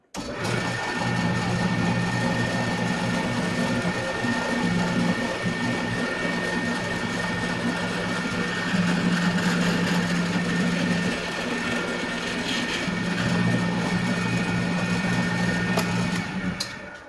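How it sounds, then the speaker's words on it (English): A power drill spins at 2180 RPM while boring into hardwood for a pipe, giving a steady, continuous motor whine that holds at an even loudness for the whole stretch and slows only slightly near the end. "I've set the speed on this drill to, I don't know what, 2180 RPM. For hardwood, it recommends something around that speed."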